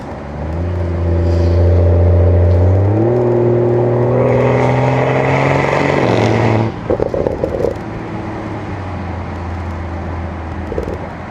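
A BMW X3 M40i engine revs high and steady, then drops through downshifts with crackling bursts before settling into a lower drone, loud and close from inside the car.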